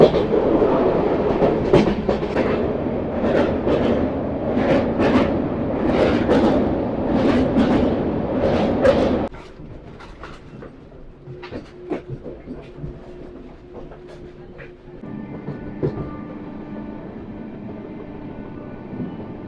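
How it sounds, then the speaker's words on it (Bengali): An Amrit Bharat Express train runs at speed, heard from on board: loud rushing rumble with rhythmic clickety-clack for about nine seconds, then a quieter, steadier interior hum with faint squeals. "আমাদের ট্রেন এখন ডানকুনি স্কিপ করলো, আর ট্রেন ভালোই স্পিডে চলছে"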